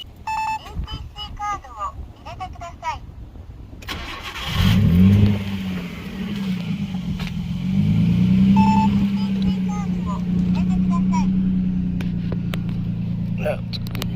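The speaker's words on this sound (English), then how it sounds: "I'm having issues with the idle. It's fluctuating on me a little bit." A Nissan R32 Skyline engine idles after starting, its low rumble rising and dipping unevenly as the idle fluctuates, with a person talking over the early part.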